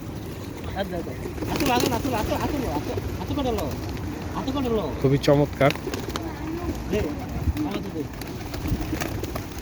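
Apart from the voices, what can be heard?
pigeons in Naples, Italy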